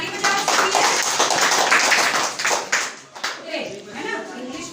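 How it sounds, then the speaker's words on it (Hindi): A class of children claps for their classmates during a Republic Day lesson, a brief burst of hand claps that thins into scattered taps while a teacher and kids talk over it. "ताली बजाओ सबके लिए"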